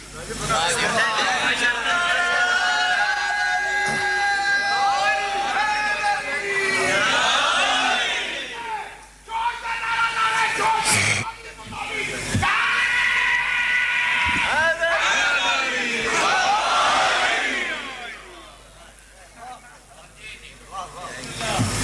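A packed majlis crowd chants a slogan together in loud rhythmic bursts, with short pauses between surges of massed voices.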